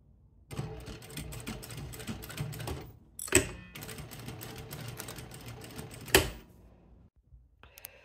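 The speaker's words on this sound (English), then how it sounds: "we can go back to the machine and we will top stitch right here" A sewing machine top-stitches a zippered make-up bag panel in two long rattling runs, separated by a brief pause, with sharp clicks and a quiet stop at the end.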